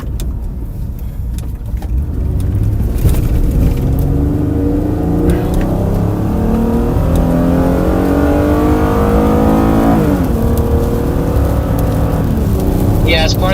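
A car accelerates hard toward a highway on-ramp during a storm chase, its engine note rising and climbing steadily, with people talking over it inside the vehicle.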